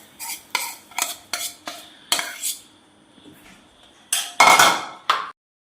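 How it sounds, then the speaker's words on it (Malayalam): A spoon stirs chopped dates into jaggery syrup in a pan, making a series of sharp scraping clinks in quick bursts, a pause, then another loud cluster of stirring knocks. "എന്നിട്ട് ഇത് നന്നായിട്ടൊന്ന് ഇളക്കാം."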